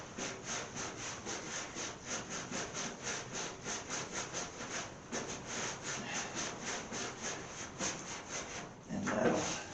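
Brush loaded with cold water stroked across a hot steel body panel on a 1929 Chrysler, giving a steady run of rapid, rhythmic scrubbing swishes close by, ending in a brief louder hissing burst with no talk.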